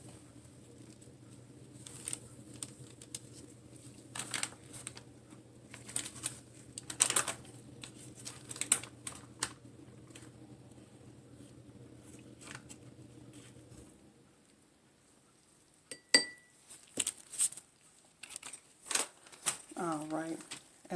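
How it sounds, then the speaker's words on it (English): Dry organic spices for homemade elderberry syrup, ginger first, are tipped and spooned into a small glass container, making soft scattered patters and taps with a low hum under them. A voice speaks briefly near the end. "we're going to add our dry spices into the little glass unit right there"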